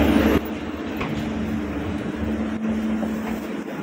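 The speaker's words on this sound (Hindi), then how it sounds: "मेट्रो ट्रेन में पहुँच चुके हैं" A Barcelona metro train rumbles along with a steady low drone and a faint tonal whine, moderately loud and continuous, with a brief louder burst at the start.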